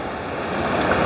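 Swan River water rushes fast over rocks at Bells Rapids in the Australian bush near Perth. It makes a loud, steady, close roar of churning water with no voices.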